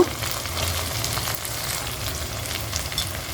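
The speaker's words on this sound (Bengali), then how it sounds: "মশলাটা একটু ভালো করে কষিয়ে নেব" Spice masala frying in a kadai, a steady close sizzle with soft stirring scrapes running without pause and no voices.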